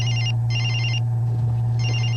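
A telephone ringtone in a TV commercial, resembling a well-known mobile phone, chirps in three loud, bright, evenly spaced bursts over a steady low hum, with no one talking.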